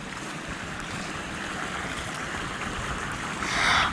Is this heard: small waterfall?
yes